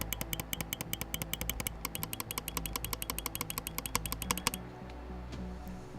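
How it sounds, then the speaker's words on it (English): A Logitech G Pro X Superlight mouse clicks rapidly and crisply, a dense run of close, even clicks lasting about four seconds before stopping abruptly, with no talking. "This is the sound of the G Pro X Superlight."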